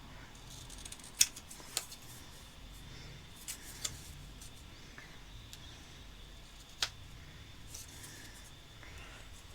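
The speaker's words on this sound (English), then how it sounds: "anything else I can take off with my scissors" Scissors snipping through cardstock while trimming pieces for a handmade Christmas card, a few sharp, faint isolated cuts spaced across a quiet tabletop setting.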